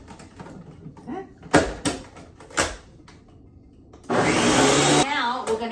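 Blender whirring through cottage cheese to smooth it out for cottage cheese brownies, a loud steady run lasting about a second after a few scattered knocks and clatters.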